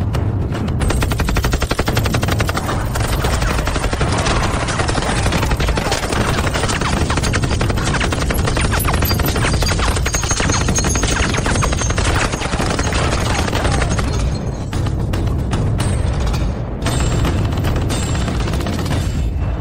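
Loud, dense machine gun fire from a martial arts action drama, sustained bursts that fill the whole stretch with heavy booming blasts.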